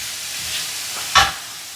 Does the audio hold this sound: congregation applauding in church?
no